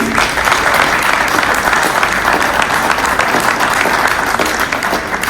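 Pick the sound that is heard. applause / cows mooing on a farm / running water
applause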